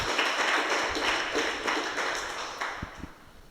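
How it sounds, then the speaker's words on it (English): Audience applause at a local filmmakers art talk, a quiet patter of many hands clapping in a room, slowly fading away over a few seconds. "a big round of applause for them, their awards, and their inclusion in a variety of film festivals"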